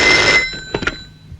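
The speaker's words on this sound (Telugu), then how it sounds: "బాబు వివేక్, మీ నాన్నగారి దగ్గర నుంచి ఫోన్ అయ్యా." A telephone bell rings indoors during a Telugu comedy film scene, a loud electric trill lasting under half a second, followed by faint handling clicks and quiet room tone.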